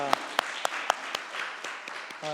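A congregation at a Sunday morning church worship service gives a round of applause. It sounds like a string of sharp, evenly spaced claps, with a voice speaking briefly at the start and end.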